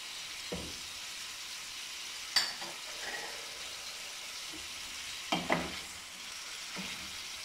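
Chicken karahi with ginger and garlic paste sizzles steadily in a pan, broken by a few sharp scraping stirs of a spoon against the metal, with a quiet hiss between strokes and no talking.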